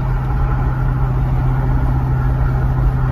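A Kia K900 with no turbos idles nearby, its engine giving a steady, even low hum that carries on without change and without speech over it.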